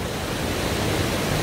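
A waterfall pours into a deep valley pool at Jijangsan, making a loud, continuous rushing roar of falling water that stays steady throughout, with no voices.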